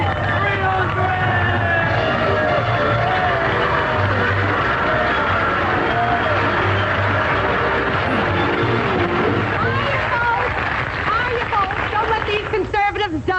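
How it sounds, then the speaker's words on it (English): A lively, excited crowd murmurs and calls out in a continuous babble at a 1940s Broadway scene, dense and close throughout with many overlapping voices. "The crowd is getting excited"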